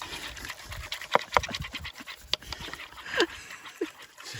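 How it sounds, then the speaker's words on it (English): A dog pants and licks at close range in an Irish cottage being restored, with soft wet smacks and quick breathy bursts coming in short irregular runs over faint background noise. "Dog licking the place."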